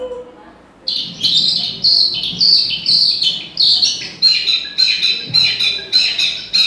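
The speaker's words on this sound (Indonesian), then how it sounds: "Itu adalah suara kicau burung." Birds chirp in quick, repeated bursts, loud and close, forming a steady rhythmic series of bright tweets.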